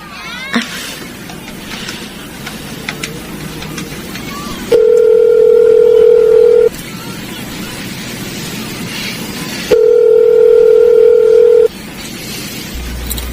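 Payphone receiver sounds: steady dial tone bursts come twice, each about two seconds long, loud and clear, separated by quieter stretches of handling noise and faint background.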